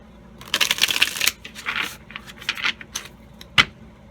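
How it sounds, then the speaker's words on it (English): Tarot cards being shuffled up close, several rapid riffling bursts and soft flutters, ending with a sharp snap, no talking. "Let's shuffle these."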